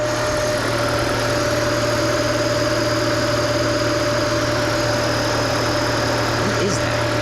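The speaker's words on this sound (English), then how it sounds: "That sounds like a pump." A pump runs steadily in a hybrid car, making a constant droning whir with a thin steady whine on top, close and unbroken for several seconds.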